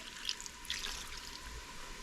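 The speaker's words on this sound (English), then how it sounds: "I'm gonna add a tiny bit of water to help it cook faster." A tiny splash of water is poured over carrots in a Ninja Foodi Pro cooker, giving a soft, brief trickle and hiss with no voices.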